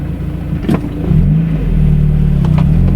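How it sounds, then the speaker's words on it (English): Car engine idling smoothly and then revving into a steady, loud, sustained rumble, close by, with no talking. "Engine runs so smooth in this thing."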